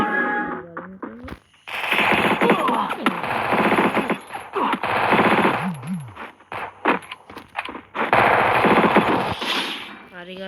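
MP40 submachine gun fire in a shooting video game, loud rapid bursts repeating across the clip with short gaps, mixed with other game effects and brief voice sounds.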